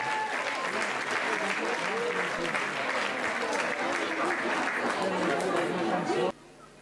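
An audience at a 2014 group festival applauds a singer, a dense sustained round of clapping mixed with crowd chatter that stops abruptly near the end.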